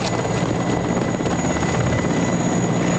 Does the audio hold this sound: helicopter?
yes